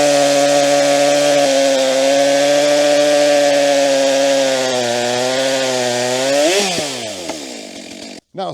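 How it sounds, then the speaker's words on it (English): A battery or gas chainsaw in a cutting contest revs and bites into a thick oak log, its loud steady whine holding near and close before the pitch dips and rises as the cut finishes and cuts out abruptly. "Start your saw, Josh."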